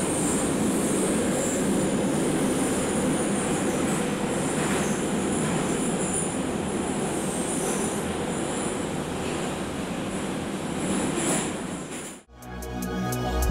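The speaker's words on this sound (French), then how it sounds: "L'une des vues quotidiennes les plus cool, c'est de regarder la rame de métro faire un virage." A metro train rolls steadily through a curve, its wheels squealing high against the rail over a continuous rumble. The sound carries on unbroken at close range, with no talk, and cuts off abruptly near the end.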